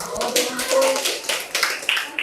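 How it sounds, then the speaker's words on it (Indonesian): An audience at a meeting on Acehnese oral tradition gives a short burst of scattered clapping, fairly close, with brief voices in the room. "Boleh tepuk tangan."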